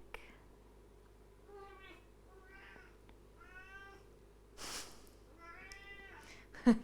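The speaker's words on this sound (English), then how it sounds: "Enjoying the soothing sounds of a cat." A cat meows softly several times in a quiet room, short separate calls with pauses between, ending with a brief rustle and thump.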